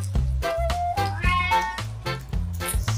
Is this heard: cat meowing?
yes